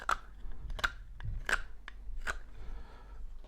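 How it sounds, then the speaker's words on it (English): A Sloyd knife cutting diagonally across a wooden kitchen spatula to shape a bevel, giving four crisp, evenly spaced slicing strokes, close and distinct over quiet background. "I'm going to use my Sloyd knife for this, and by cutting across here on the diagonal like that, it'll do a nice clean cut"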